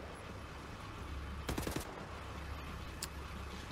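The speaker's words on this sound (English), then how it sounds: "Someone was shooting." Burst of rapid gunfire in the shooter Wolfenstein: The New Order, a cluster of quick shots over about half a second, then a single faint crack, all over steady game ambience.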